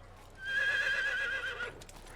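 A horse in the Assassin's Creed video game lets out a single clear, drawn-out whinny that wavers and fades over about a second, heard over quiet background game sound.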